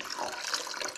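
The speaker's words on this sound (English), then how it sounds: "Now we're just going to add some water." Water poured into a cooking pot to steam artichokes, a brief steady splashing stream, fairly soft and close, heard alone.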